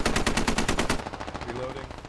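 A Stryker armored vehicle fires a rapid automatic burst in the tactical shooter game Squad, with loud, evenly spaced shots for about a second before the fire stops and a rumbling echo trails off.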